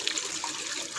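A large cucumber is rinsed under running water, a brief, soft splashing rush of water lasting about a second.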